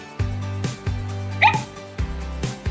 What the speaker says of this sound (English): this dog has hundreds of different movements and sounds